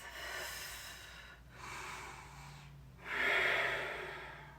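Deep, slow breathing during vinyasa yoga practice: a long airy exhale, then an inhale, then a stronger, louder exhale, close to the microphone with no talk.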